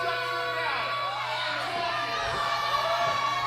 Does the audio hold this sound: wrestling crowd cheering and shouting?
yes